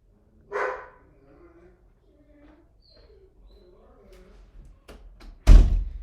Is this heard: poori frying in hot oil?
no